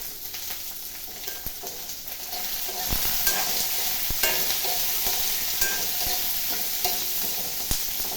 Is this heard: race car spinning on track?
no